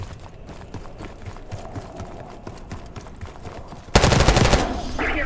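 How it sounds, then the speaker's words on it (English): Rapid rattling gunfire from the video game Call of Duty: Black Ops 6 crackles steadily in the background, then a louder burst of shots erupts near the end, with no voices. "You hearing gunfire? Yes. Sounds like it's coming from one of the lower floors."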